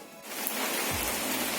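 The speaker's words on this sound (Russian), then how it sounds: "Под эти прекрасные звуки дождя я могу вам рассказать" Rain sets in after a brief quieter moment and then holds as a steady, dense hiss of falling water, with no talking over it.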